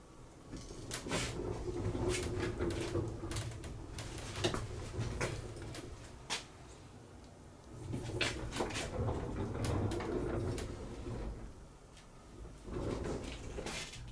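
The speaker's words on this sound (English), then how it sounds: "Now that the hinges and caster are installed, I can test out the movable wall flat." A homemade movable wall flat for a haunted mansion set rolls on hinges and a caster, giving repeated rumbling rolls with knocks and clacks in two bursts and a quieter pause between them.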